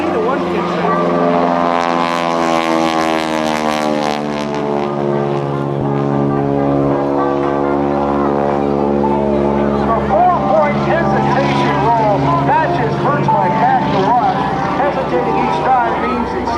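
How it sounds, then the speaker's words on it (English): A propeller biplane performing at the 2014 NAS Oceana Airshow drones loudly, its engine pitch sweeping up and down as it passes, while a commentator talks over it. "Greg can maintain positive G to enable Sam to move safely around the top of his plane."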